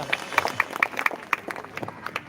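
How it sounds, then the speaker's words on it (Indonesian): A church revival congregation gives a short burst of applause, with uneven, sharp hand claps at moderate distance, sparse and irregular rather than a dense roar. "Berikan tepuk tangan yang meriah buat Tuhan."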